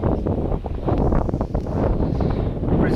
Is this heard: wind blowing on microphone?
yes